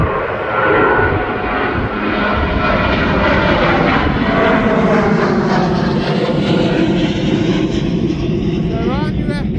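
Airliner taxiing at East Midlands Airport, its engines giving a loud, steady whining roar that swells and shifts in pitch as it moves along, with a person talking over it.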